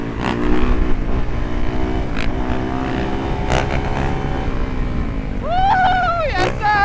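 A Yamaha YZ dirt bike engine revs hard in a lot, pitch sweeping up and down through several throttle blips, loud and close, with a rising scream near the end.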